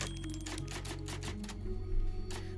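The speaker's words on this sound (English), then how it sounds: "There's a typewriter." A typewriter save point in the Resident Evil 4 Remake clatters with quick mechanical keystrokes in a steady run, layered over a low ambient game hum and music.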